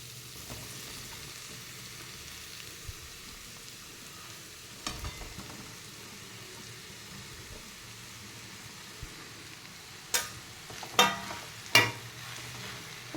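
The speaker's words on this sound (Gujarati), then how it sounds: "અને મિક્સ કરીને તરત જે બટાકા હતા ને એ બધા આપણે અંદર એડ કરી દઈશું." Potatoes are stirred into a pan of frying semolina snack, a soft, steady sizzle under scattered scraping, with several sharp knocks of the spoon toward the end, close and without talk.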